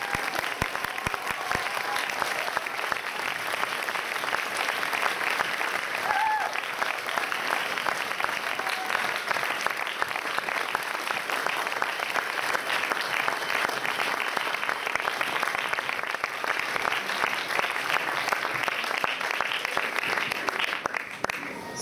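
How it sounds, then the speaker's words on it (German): Steady, loud applause from an audience at a press conference greets the children's choir Children Beyond, with dense clapping that continues without a break for about twenty seconds. "Einen großen Applaus für die Kids von Children Beyond."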